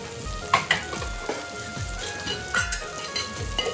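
Mutton masala with homemade red masala, garam masala, coriander powder and hing frying in oil, loud close sizzling under repeated stirring scrapes and clinks of a spoon against the pan.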